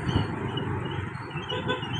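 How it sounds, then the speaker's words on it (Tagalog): Heavy traffic crawling along a damaged road in Lupi, Camarines Sur, heard as a steady close rumble of cars and trucks with a faint horn toot near the start. "Sobrang traffic talaga."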